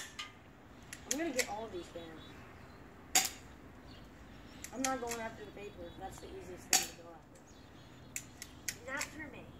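An airsoft gun fires at paper targets outdoors, sharp quiet snaps spaced a few seconds apart, with voices talking between shots.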